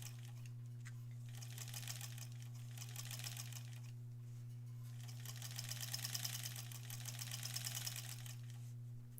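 A sewing machine stitches close to the edge of a granny squares quilt, its rapid steady needle clatter running throughout over a constant low motor hum, swelling slightly louder in the second half, with no talking.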